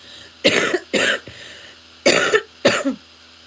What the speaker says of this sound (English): I'd prefer not to be like coughing and like schnozzing here on the live